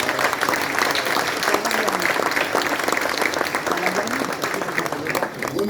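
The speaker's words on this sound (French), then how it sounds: "un grand honneur de recevoir le président du Rassemblement national, Jordan Bardella, que je vous demande d'applaudir." A rally crowd at a Rassemblement National event in Perpignan applauds Jordan Bardella with loud, dense, sustained clapping that carries on evenly throughout.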